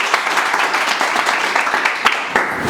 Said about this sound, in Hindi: एक बार जोरदार ताली बजाओ आपने